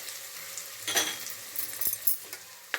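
Carrots and other vegetables, such as beans, tipped into a frying pan with softened onions for pulao, giving a steady close sizzle with bursts of stirring and a few faint utensil clinks, no talking.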